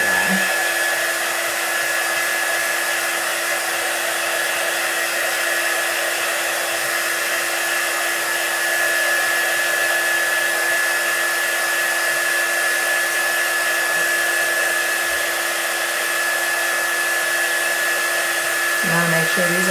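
Hair dryer blowing on painted chalk pieces, a loud, steady whirring drone running unbroken from start to finish.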